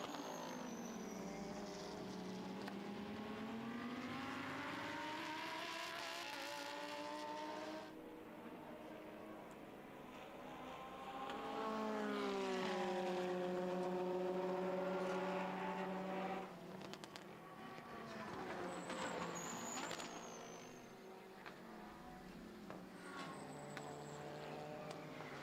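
GT and touring race cars on the Slovakia Ring circuit, engines roaring through rising and falling gear changes as cars pass the trackside position, continuous and moderately distant.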